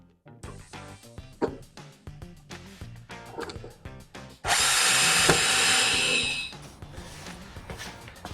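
A power drill drives longer screws into wood: a run of short bursts with clatter, then one loud sustained whir for about two seconds, close and alone.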